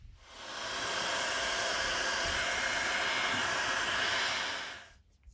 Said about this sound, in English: then we'll take our heat gun and shrink the tubes